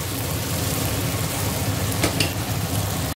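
Tofu fries in hot oil in a pan with a steady, dense sizzle and crackle that runs the whole time, joined briefly by a few louder pops near the end.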